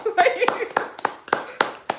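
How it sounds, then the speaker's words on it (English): A small audience at a live Q&A claps for the Martin crew, with sharp, evenly spaced claps about four per second over steady background voices. "Please give the Martin crew a round of applause"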